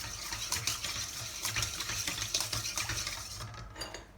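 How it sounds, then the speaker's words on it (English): Ingredients for a Hokkaido milk loaf are stirred in a bowl, a busy run of scraping and clinking utensil strokes in a quick irregular rhythm that stops abruptly near the end. "give it a good stir"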